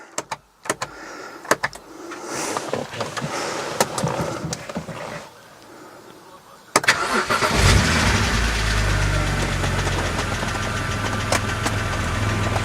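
BMW 130i, up close: clicks and door or window noises, then the engine cranks and catches into a loud, steady idle with a faint rapid tapping from the hydraulic lifters underneath.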